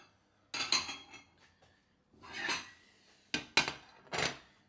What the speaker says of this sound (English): I'm gonna cut this up first on a plate